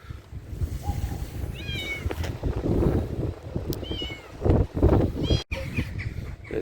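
Several short meows rise over a busy outdoor background with rustling and movement, fairly close.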